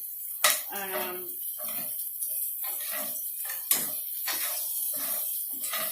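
Onions and garlic stirred around a pan for chicken paprikash, the spoon making repeated close scraping strokes in a steady rhythm, with a couple of sharper knocks against the pan and no talking.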